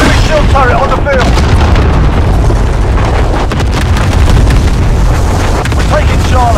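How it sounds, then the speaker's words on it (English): Cluster strike explosions rumble in Call of Duty Modern Warfare during a domination match on the St Petrograd map, a loud, continuous barrage of booms with crackling bursts layered densely over each other. "Cluster strike away."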